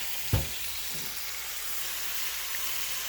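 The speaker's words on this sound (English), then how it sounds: "bacon grease I have here, I am adding my turnip greens." Turnip greens dropped into hot bacon grease, a sharp splash followed by steady close sizzling and frying without any talk.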